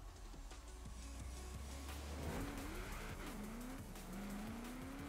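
Race cars launching at the start of a race in Forza Horizon 4, engines revving and accelerating with tire squeal and rising gear-shift whines, moderately quiet with no talk.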